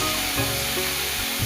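Grated onions hit hot oil with slit green chilies, making a loud, continuous close sizzle and spitting crackle across the whole short stretch, with no voice heard.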